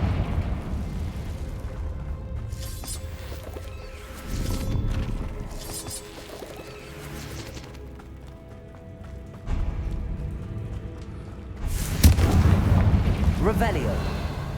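Confringo fire spell explosions in Hogwarts Legacy, a few heavy rumbling booms spaced several seconds apart, the last and loudest near the end, amid footsteps and game sounds, with speech present.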